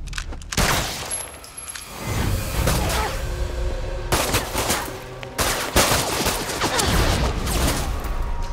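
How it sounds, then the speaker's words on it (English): Rapid automatic gunfire from a deployable gun turret in The Evil Within 2, dense bursts of shots repeating loudly throughout with whooshing action sounds mixed in. "She has deployable gun, so you're fucked."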